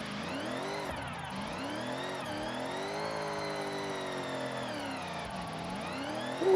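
A car drifting without the handbrake in Forza Horizon 6, its engine revving up and down in long sweeping rises and falls, steady and fairly close with a faint tire whine.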